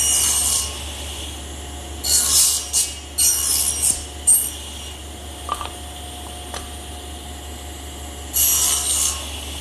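Hand saw cutting shoulder cuts into the edges of wooden rails for a blanket chest, heard as several short bursts of rasping strokes separated by pauses, with no talk over it.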